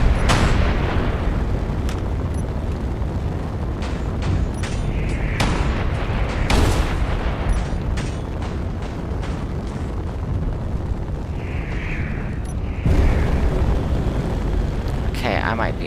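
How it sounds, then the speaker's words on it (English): Turrets firing on a Visby-class corvette in the game Space Engineers, a continuous heavy roar of rapid gunfire with booming impacts and scattered louder blasts, steady throughout and close. "Now my turrets are shooting at them."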